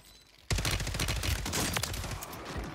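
Call of Duty FJX Horus gunfire on Rebirth Island, a sudden sustained burst of rapid automatic shots that starts abruptly after half a second and stays loud and close.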